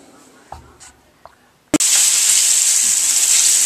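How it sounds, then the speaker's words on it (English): Battered fish drops into hot frying grease. A few faint taps give way to a sudden loud, continuous hissing sizzle that holds steady to the end. "we're going to put it right in the grease and fry it"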